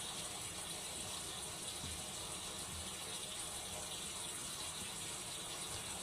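Steady broadband hiss of water running from a tap, continuous and fairly faint throughout with a faint mechanical rattle underneath and no voices.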